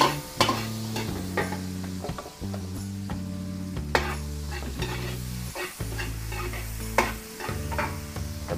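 Onions frying in a hot pan for a Filipino dish, a steady close sizzle broken by repeated stirring scrapes and clatters, with background music playing throughout and no talking.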